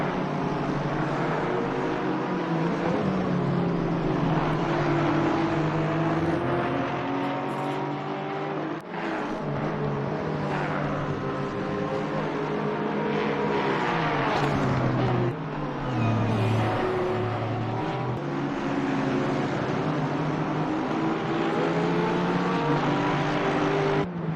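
A Porsche race car engine in a sim racing game at Misano, droning loud and steady as revs rise and fall through gear changes, with other cars close by.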